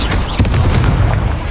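An Incendio fire spell cast in Hogwarts Legacy, heard as a loud booming burst with a couple of sharp cracks and a rumbling, crackling body.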